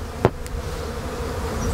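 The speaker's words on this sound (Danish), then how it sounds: "selvom der sidder et par bier i tavlen stadigvæk" Bees crawl and buzz around a beehive frame in a steady close drone, with one brief louder bee passing near the start.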